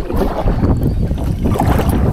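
Strong wind buffets the microphone on a river while kayaking, a loud, continuous low rumble with gusty surges and no voices.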